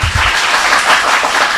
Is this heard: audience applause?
yes